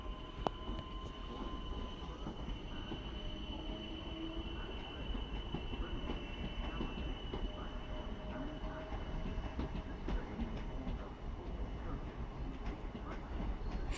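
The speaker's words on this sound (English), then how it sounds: "Here goes the local Southwest train service departing Guildford" A South Western local passenger train pulling out of Guildford station toward London Waterloo, a low steady rumble of wheels and traction with faint squeal tones, heard from the platform at moderate distance without talk.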